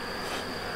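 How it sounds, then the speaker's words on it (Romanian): Honeybees buzzing steadily at a hive in early spring after overwintering, a dense continuous insect drone that fills the whole short stretch at even loudness, with no voices. "Sunt bucuros să văd că sunt albinele aici, că sunt sănătoase"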